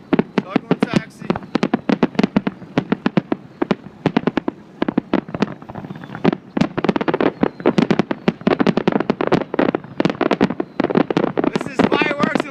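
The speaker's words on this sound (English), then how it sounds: "Fireworks are going off." Fireworks at the Electric Daisy Carnival at the Las Vegas Motor Speedway, a rapid, continuous barrage of loud cracking bursts and pops, with occasional talk mixed in.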